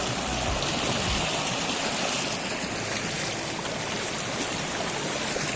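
A rocky stream runs steadily close by, a dense, unbroken rush and splash of flowing water with no voices over it.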